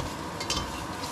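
Yellow onion and garlic frying over medium heat in a pan, a steady close sizzle with a brief scrape of stirring partway through.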